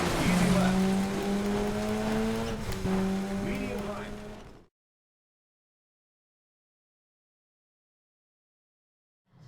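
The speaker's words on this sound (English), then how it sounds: "So this is 6 cars racing around a canyon environment." Rally cars race through a canyon track in SEGA Rally Revo, engines droning and tires squealing loudly for several seconds before the sound cuts to silence.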